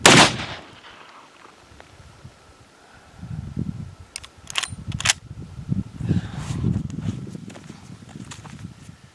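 A Marlin 45-70 Guide Gun rifle fires one sharp, loud shot outdoors at the very start, followed by quieter shuffling and clicking handling noises.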